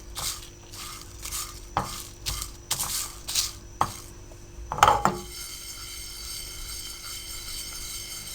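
Whole spices for homemade paya masala being stirred and dry-roasted in a pan, with a string of scraping, clinking stirs in the first half, a sharper rattle near the middle, then a soft steady hiss to the end.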